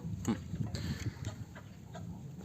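Australorp chicken in a coop, clucking in short bursts close by amid general farmyard noise, with faint other fowl sounds in the background.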